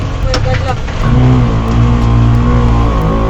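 A Bajaj tricycle engine revs hard while climbing uphill, a loud steady drone that swells after the first second and holds, with voices faintly audible under it.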